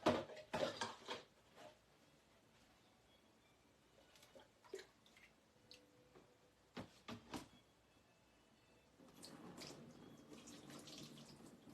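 Water from a tap runs over a marbled piece being rinsed, with splashy bursts and intermittent gushes, fairly quiet and close, building to a steadier stream near the end.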